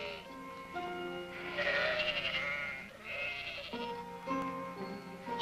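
Cartoon sheep in a field bleat in overlapping calls over a steady musical background, the bleats rising and falling in several bursts.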